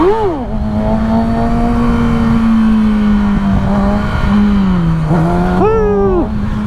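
A Kawasaki ZX6R sport bike is ridden on a road, its engine holding a loud, steady high-pitched drone that dips briefly before a sharp rev climbs and settles again, with wind rush throughout.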